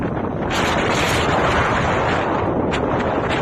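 Strong wind of about 30 m/s in Norilsk roars continuously, buffeting the microphone with heavy gusts and occasional sharper bursts.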